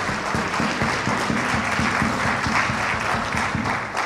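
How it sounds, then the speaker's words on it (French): Wedding guests clapping at a reception, a dense, steady round of applause from a crowd filling the whole stretch at even loudness. "Applaudissez, s'il vous plaît."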